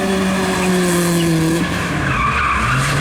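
Tires squeal and skid on an autoslalom course in Lviv as a car with a VAZ-2106 body and BMW 3 Series internals slides hard. Loud sustained screeching whines shift in pitch, alone and close, with engine noise beneath.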